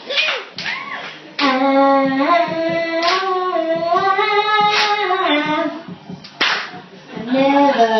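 Improv comedy show audience clapping along to an improvised song: a few sharp, widely spaced claps ring out beneath a loud, close singing voice that carries the melody throughout.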